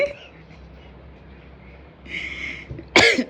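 A single sharp, forceful cough bursts out near the end, close and loud, preceded by brief breathy throat noise over a quiet room.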